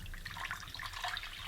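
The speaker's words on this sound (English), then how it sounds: "I'm going to put a little warm water" Warm water pours steadily into a glass jar with salt, making a continuous bright splashing and trickling that stays close and even throughout, with no talk.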